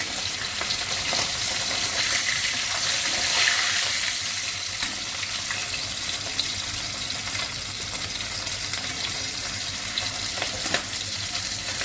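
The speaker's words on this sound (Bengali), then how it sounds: "মাছগুলো আমি একটা করে ভেজে নেব।" Soft bhola fish fries one piece at a time in hot oil, giving a continuous close sizzle and crackle with occasional sharper pops and light stirring sounds.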